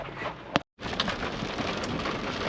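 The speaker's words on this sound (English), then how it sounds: "now the rain's coming down a little harder" Heavy rain pours down during a thunderstorm on a fishing trip, a dense steady hiss broken by one sharp crackle and a brief dropout.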